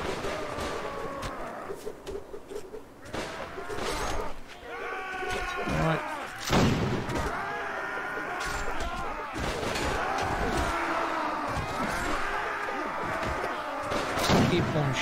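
Artillery and gunfire roll through a Warsword Conquest battle against goblins, broadband blasts and crackling shots filling the mix, with bleating-like cries and shouting voices layered over the continuous din.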